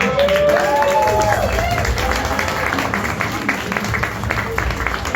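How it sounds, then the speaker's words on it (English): A comedy club audience applauds a comedian, with dense, steady clapping and crowd noise throughout, mixed with whoops and voices calling out over the clapping. "A round of applause, please."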